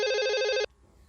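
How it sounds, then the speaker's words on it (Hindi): A telephone rings indoors with a bright, buzzing electronic trill, one loud burst that cuts off abruptly, leaving a quiet room with no one speaking. "देख तो बाबू काकर फोन है।"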